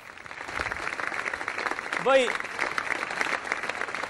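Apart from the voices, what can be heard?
studio audience applause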